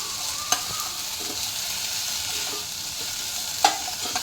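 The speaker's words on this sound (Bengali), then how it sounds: "এবার দেখুন এই সবজিগুলো একটু জাস্ট ফ্রাই হয়েছে" Mixed vegetables and soybean chunks fry in a pan over raised heat, a continuous even sizzle close by, broken by two sharp spatula knocks against the pan.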